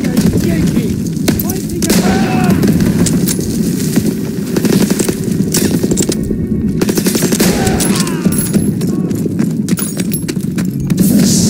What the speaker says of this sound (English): That artillery's killing us!